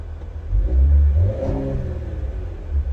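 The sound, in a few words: car engine revving with turbo whine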